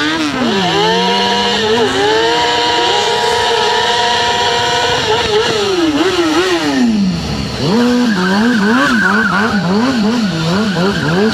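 Several motorcycles circling a tight indoor arena at a show, engines loud and close with rising, falling revs as they lean round the turns, continuous throughout.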